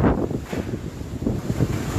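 Strong gusts from Super Typhoon Rolly (Goni) roar over Naga City, buffeting the microphone in a loud, rumbling, uneven rush that continues without pause.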